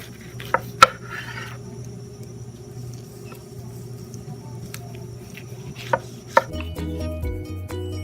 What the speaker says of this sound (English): We're just gonna take it and slice it in half, and then we'll slice all the halves in half.